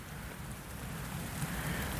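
Rain falls across a Florida scrub conservation area, a steady broadband hiss of drops on foliage and ground that grows slightly louder, with no voices.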